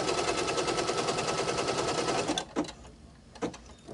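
A sewing machine stitching a circles quilt square, a fast steady mechanical chatter running continuously for over two seconds before stopping, followed by a couple of brief clunks as the machine settles.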